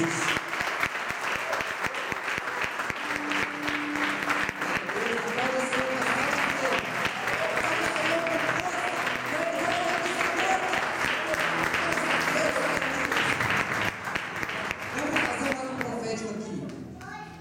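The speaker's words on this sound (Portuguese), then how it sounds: "Eu gostaria que você aplaudisse ao Senhor Jesus bem forte pela vida do Anderson" Loud, sustained applause fills a church congregation during a sermon, a dense wash of clapping running nearly unbroken for the whole stretch, with voices talking or calling out over it before it thins toward the end.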